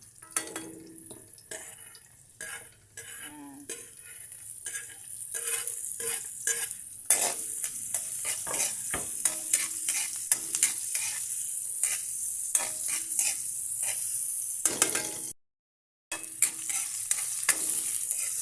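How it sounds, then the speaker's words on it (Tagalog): Onion and garlic sizzling and being stirred in hot oil in a pan for home-style mussel tinola, a steady bright fry with repeated spatula scrapes and clinks, briefly cutting out near the end. "sunod na natin yung ating sibuyas at bawang"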